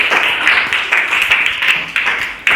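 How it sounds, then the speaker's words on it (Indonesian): Applause from students in a classroom during a sociology lesson, a steady patter of clapping hands with a few sharper claps, fairly close and continuous for a couple of seconds. "tepuk tangan untuk Diva."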